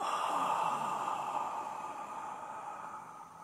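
A long, soft, steady exhale of breath during a yoga breathing exercise, heard close up, fades gradually over a few seconds with no speech.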